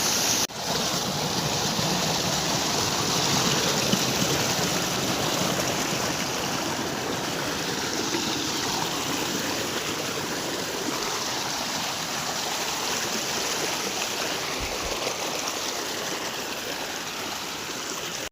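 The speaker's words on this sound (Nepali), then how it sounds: "पानी ठाउँ ठाउँबाट फुट्ने क्रम भइरहेको रहेछ।" Water from a burst spring rushes and gurgles in a small stream, a continuous, fairly loud broadband flow heard up close with no pauses.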